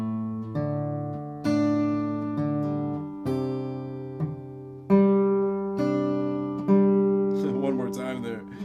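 Acoustic guitar plays two measures of fingerstyle blues in G, with clear plucked notes and bass strums ringing out in a slow, even rhythm, close and solo.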